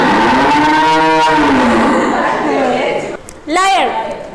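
A person imitates a cow, voicing a long, low, wavering moo, then gives a second shorter rising moo after a brief pause.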